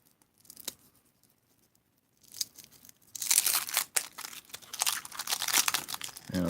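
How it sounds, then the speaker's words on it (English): Foil trading card pack torn open by hand, quiet crinkling at first, then a louder, sustained ripping and crackling of foil in a close, quiet room with no talking. "let's rip open this one"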